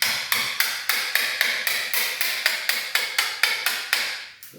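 A 1 inch chisel is driven with steady hammer blows while cutting a door lock mortise in a new house, about fourteen sharp, evenly spaced, close strikes at a brisk rhythm.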